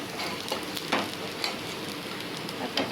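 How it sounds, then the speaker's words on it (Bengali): Sago fritters fry in a little oil over a medium flame, a steady close sizzle with a few louder crackles and spatters as they turn, alone without talk. "এবার আমি এগুলোকে একটু হালকা ভাজা হয়ে এসে উল্টে নিচ্ছি"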